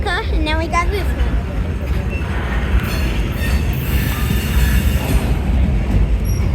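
A train rolls steadily along rails at close range, its wheels squealing and grinding in a continuous loud wash, with a voice speaking briefly near the start.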